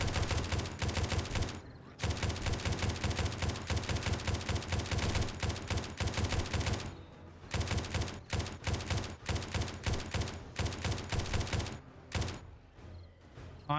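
Rapid bursts of gunfire in the survival game 7 Days to Die, loud and close, with clipped shots in long rhythmic strings broken by brief pauses and a quieter stretch near the end.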